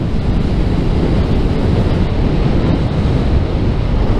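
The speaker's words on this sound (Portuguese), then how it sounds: "Que delícia de rodar nessa moto." Riding a Honda CBR500R motorcycle with ABS brakes gives a loud, constant roar of wind noise buffeting the microphone, steady from start to finish with no voices.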